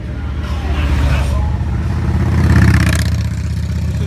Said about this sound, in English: I think we got a motorcycle coming